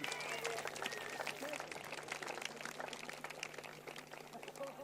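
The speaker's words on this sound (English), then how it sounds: "a huge round of applause for our runner-up for the Roxy Pro, India Robinson" Crowd applause greets the surfing runner-up at the Roxy Pro finals ceremony in France, a steady wash of clapping held for the whole stretch under a busy, noisy background with some voices.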